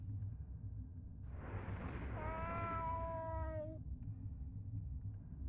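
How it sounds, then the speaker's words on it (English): A cat in the horror video game Fear & Hunger gives a single drawn-out tonal meow or yowl lasting about two seconds over a steady low ambient rumble, with no speech. "Pocket cat is purring loudly"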